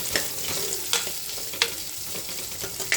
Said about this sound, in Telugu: ఇవన్నీ కూడా కోసినవి కట్ చేసిన ముక్కలన్నీ కూడా వేసుకుంటున్నానండి. వేసుకొని ఫ్రై చేసేస్తున్నాను.